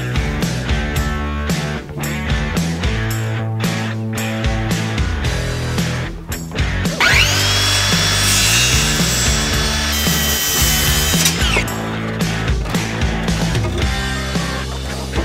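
A saw cuts through a wooden 2x4 board at close range, loud rhythmic rasping strokes with short pauses, followed by a sustained smoother stretch of cutting before the strokes resume.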